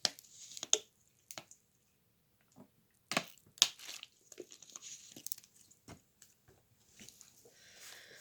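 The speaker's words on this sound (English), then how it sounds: "Let me just take a sip of water." A few quiet sips of water with soft mouth clicks and swallowing sounds, scattered across several seconds in a calm, near-silent room with no talking.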